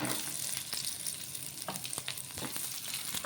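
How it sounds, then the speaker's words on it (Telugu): Dried red chillies and onions fry in a hot pan with a steady sizzle and crackle, broken by a few sharper spatters and the scrape of stirring, close and fairly loud, with no voices. "ఎండుమిర్చి వేసుకొని వేయించుకోవాలి"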